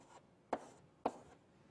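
Chalk or marker strokes on a lecture-hall board during a computer science class, two short scratchy taps about half a second apart, fairly faint and close with no talking.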